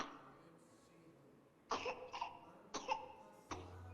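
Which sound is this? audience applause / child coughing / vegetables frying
child coughing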